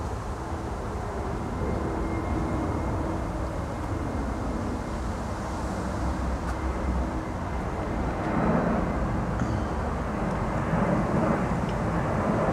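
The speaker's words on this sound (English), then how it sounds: "There's a nice big airplane flying over." A large airplane passes overhead outdoors, a steady, loud broadband roar that holds evenly throughout and swells slightly near the end, with no talk.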